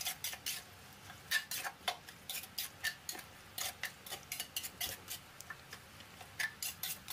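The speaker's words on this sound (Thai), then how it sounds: "ใช้ทัพพีนะครับคนให้เข้ากันครับ" A ladle stirring eggplant soup, giving a steady run of light clinks and scrapes against the pot, fairly quiet with no talking.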